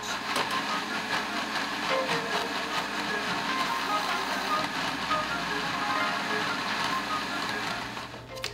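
A blender making watercress pesto whirs continuously at a steady pitch for several seconds, then winds down at the very end.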